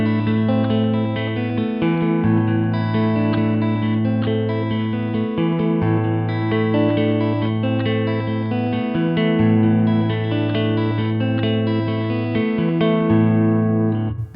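Clean electric guitar with some added gain, on an LTD EC-401VF neck pickup, plays sustained chords and notes, loud and steady, with a touch of reverb.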